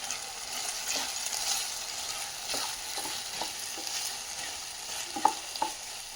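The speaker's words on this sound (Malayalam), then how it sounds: "ഇനി ഈ സമയത്ത് നമുക്ക് കുറച്ച് മല്ലിയില ചേർത്ത് കൊടുക്കാം. അതുകൂടെ ഒന്ന് ഇളക്കി ഒതുക്കിച്ച് കൊടുക്കും." Tomato masala with coriander leaves gets stirred in a pan, a soft sizzle with intermittent scrapes and light clinks of a spoon, close but fairly quiet.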